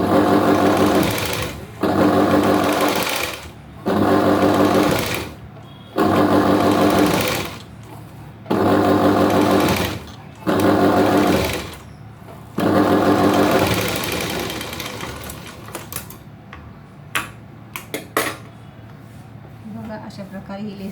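Sewing machine stitching a V-neck blouse neckline, loud close bursts of rapid whirring in six runs separated by brief pauses, then a softer trailing run, with a voice in the background.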